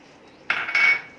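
Spoon scraping and clattering against a pan while tandoori arbi (taro) masala with tomato ketchup is mixed over low gas, two short bursts of metallic scraping close up in a quiet kitchen.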